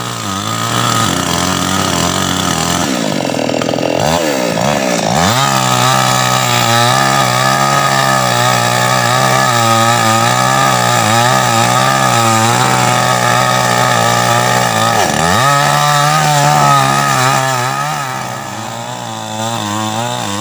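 A chainsaw cuts a tree away from a telephone line, its engine running loud and steady throughout, with revs rising and falling and a brief dip near the end.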